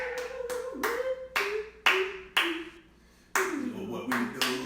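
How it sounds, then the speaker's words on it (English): A few people clapping on a casual live stream, about seven separate sharp claps spaced unevenly, close and fairly loud, with a steady tone and faint background noise between them. "Let's get some claps in there."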